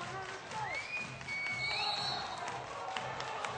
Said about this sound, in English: Crowd clapping their hands.